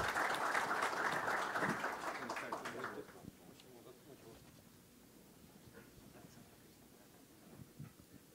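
Audience applause at a university panel welcomes Alexandre Almeida, director of the Universidad de Lima's scientific research institute. Dense, fairly loud clapping fills the first three seconds, then drops to a faint room murmur with scattered noise.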